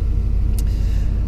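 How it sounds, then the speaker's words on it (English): A 2017 Ford F-350 pickup idles with a steady low rumble, close and continuous, with one brief hiss partway through. "Actually, the truck sounds really good, no ticking right now."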